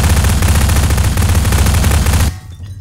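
Garry's Mod Prop Hunt gunfire, a loud continuous burst of rapid automatic shots that stops abruptly near the end, with no talking.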